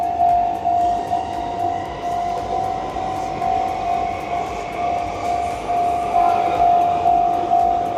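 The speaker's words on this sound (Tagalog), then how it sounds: "pinahinto kami kasi meron dadaan na train. Local train to." A local train rumbles steadily past near Yoyogi Park in Tokyo, loud and close, with a constant rolling roar and a sustained tonal ring running through it for the full eight seconds.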